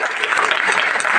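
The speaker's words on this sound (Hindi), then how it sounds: "जोरदार ताली बजाइए।" A church congregation at a Sunday service breaks into loud, dense applause, many hands clapping together in a brief continuous burst.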